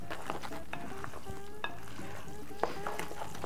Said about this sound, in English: We are going to add our eggs.